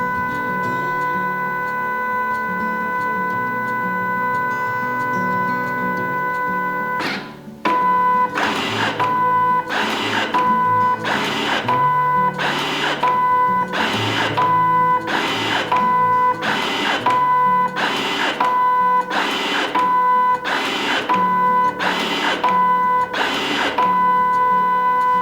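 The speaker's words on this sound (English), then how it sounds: "The printer will then move the cleaning card in and out of the printer" An IDP Smart 31/51 plastic card printer runs its cleaning cycle, moving the cleaning card in and out over the rollers with a steady mechanical whir and regular rhythmic clunks, close and continuous after a brief pause early on.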